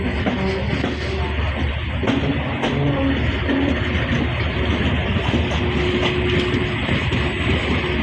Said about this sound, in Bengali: 5 মিনিট যাত্রা বিরতি দিয়ে ট্রেনটি নীলফামারী রেলওয়ে স্টেশন থেকে ছেড়ে গেল